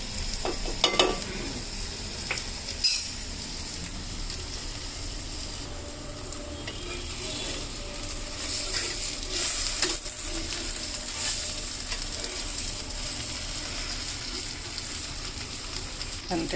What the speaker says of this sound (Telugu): స్టవ్ వేడికే కొంచెం కాగుతూ ఉంది నెయ్యి